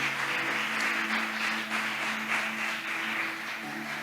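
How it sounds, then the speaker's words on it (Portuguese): Church congregation applauding for Jesus: soft, continuous clapping at a moderate distance over a held musical tone, with no speech. "Dê a melhor salva de palmas para Jesus pela sua palavra."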